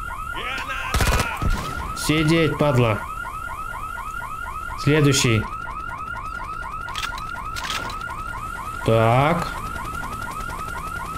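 A siren blares at a meteorological station in the video game I.G.I.-2: Covert Strike, a loud, continuous cycling electronic wail. Short bursts of gunfire and a man's brief speech cut in over it.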